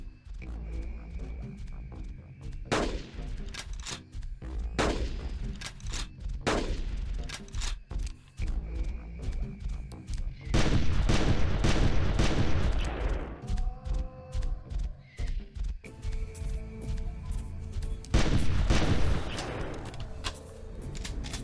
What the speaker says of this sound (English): The monster croc finally goes down in a barrage of bullets and slugs.